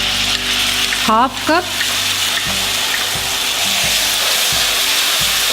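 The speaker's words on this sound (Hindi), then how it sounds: "इसे भी सौटे करेंगे 40 to 50 सेकेंड्स के लिए" Chopped onion sautés in a pan with a loud, close, continuous sizzle and some stirring, while a voice speaks briefly over it.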